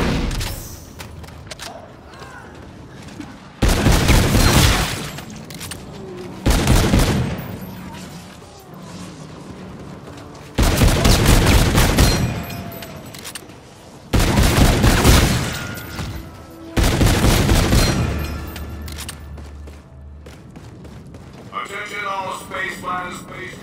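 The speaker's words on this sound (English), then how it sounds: "You're about to interact with my shotgun." Shotgun blasts in the video game Call of Duty: Infinite Warfare: several loud booming shots in uneven bursts, each sustained for a second or two, with quieter game sounds between them.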